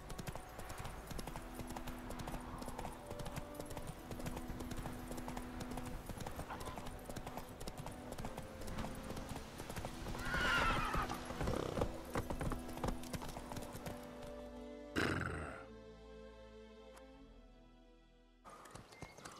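Roach, a horse in the video game Witcher 3, galloping with steady rhythmic hoofbeats under background music and a voice, ending in a brief louder burst and then quieter hooves.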